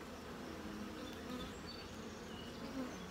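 Honeybees buzzing over hive frames while foraging on blooming clover and alfalfa: a steady, faint, dense hum of many wings, close and continuous, with no voices.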